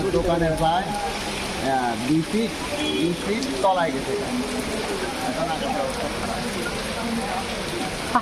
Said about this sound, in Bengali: এখন বৃষ্টি আরো বেশি